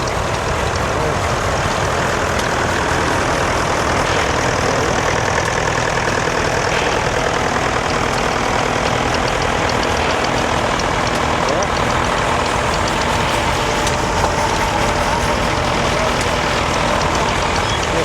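Massey Ferguson 135 tractor in nice condition idling at a vintage tractor and steam fair, a steady loud engine chug running unbroken throughout amid outdoor crowd noise, with people talking.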